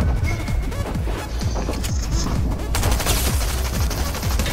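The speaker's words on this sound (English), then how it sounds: "I literally lasered that person's TV with the green Stinger SMG" A green Stinger SMG in Fortnite, at Tilted Towers, fires rapid automatic bursts, a dense rattling stream of loud shots that continues right through to the end.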